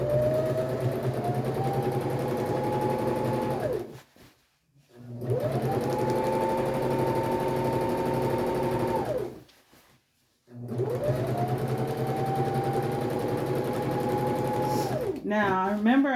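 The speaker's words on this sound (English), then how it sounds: "I'm going to run a stay stitch around the top of the opening of the circle skirt" A sewing machine runs a stay stitch around the top opening of a circle skirt, in three long steady bursts of whirring motor and needle rhythm separated by short pauses, close and loud.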